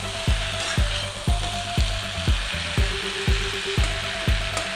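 Mixed vegetable curry sizzles loudly on high heat in a pan with a steady frying hiss, broken by regular thumping strokes roughly twice a second as the pan is worked.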